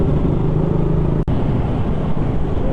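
A KTM Duke 200 motorcycle engine drones continuously and loudly close by, broken only by a brief momentary dip, with no voices.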